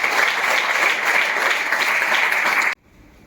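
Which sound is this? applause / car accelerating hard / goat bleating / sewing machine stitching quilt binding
applause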